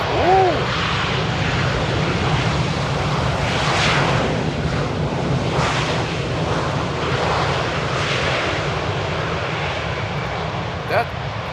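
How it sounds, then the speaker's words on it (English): Airliners landing in rain at Amsterdam Airport, Boeing 777s rolling out without reverse and an Embraer E190 using heavy reverse thrust; a loud, continuous jet roar fills the whole stretch, with brief talk at the start. "777s without reverse and an E190 with reverses like its life depends on it"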